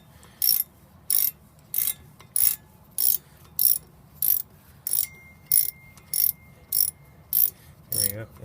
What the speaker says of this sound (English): as I move that ratchet